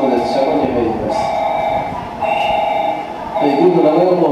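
A Japanese station platform approach announcement chimes and voice play while a JR West 221 series train bound for Ogaki rumbles in, with steady tonal hums from the loudspeaker layered over the rolling noise.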